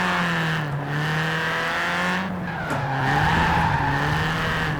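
Tires skid and screech in a racing video game as an AE86 car is drifted with a USB handbrake, the tonal engine drone steady and loud throughout with no talking.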